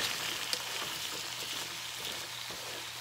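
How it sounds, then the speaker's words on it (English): Food fries in a pan at a steady, even sizzle, a soft broadband hiss that continues unbroken for a few seconds with a faint tap near the start and no talking. "Fry this up."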